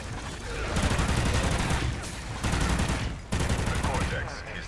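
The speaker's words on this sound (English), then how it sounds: "sentry guns are totally taking out the dive bombers" Sentry guns in a video game shooting at dive bombers, a dense, sustained rattle of rapid automatic fire that runs almost without break, briefly dropping out once before resuming.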